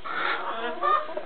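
A hen clucks inside a chicken coop in winter, a short close burst of soft, throaty clucks.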